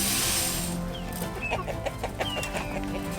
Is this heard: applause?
no